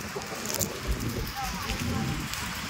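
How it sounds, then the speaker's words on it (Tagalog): Rain falls during a motorcycle ride along the seaside route from General Nakar to Infanta, Quezon, heard as a steady hiss mixed with rushing wind noise on the microphone, with voices talking. "It's raining."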